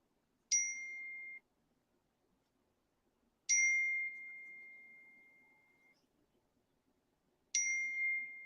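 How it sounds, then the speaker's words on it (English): Three separate bright phone notification dings, each a sharp ringing strike followed by a sustained decaying tone, spaced a few seconds apart in an otherwise quiet room. "I'm getting my phone blowing up"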